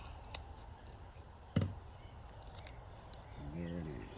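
One sharp snip of scissors cutting into a fish while cleaning it, through a faint background hum, with a quiet tonal sound near the end.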